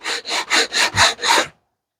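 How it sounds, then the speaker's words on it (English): Hand-sanding rough cut wooden edges of a DIY plate stand: six rhythmic back-and-forth rasping strokes, close and fairly loud, ending abruptly in silence; no talking. "So I'm going to sand them off a bit,"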